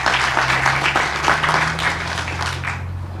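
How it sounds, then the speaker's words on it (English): Audience applause at an outdoor groundbreaking ceremony for a Kaiser Permanente Mid-Atlantic headquarters building, a loud, dense patter of many hands that fades slightly toward the end. "Let's give him a round of applause."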